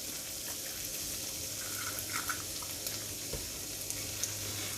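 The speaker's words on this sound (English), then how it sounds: "Now here's where I add egg." An egg dropped onto a hot hibachi griddle at home, sizzling and crackling steadily in a soft, continuous hiss with a few small pops, fairly close and with no voices.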